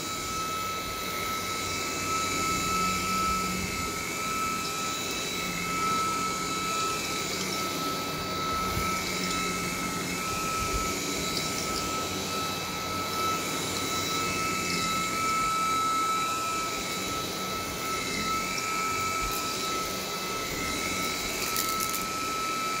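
A DreameTech T30 cordless vacuum cleaner runs steadily in a living room, a loud continuous whine with a high motor tone, sucking up debris without pause and with no talking.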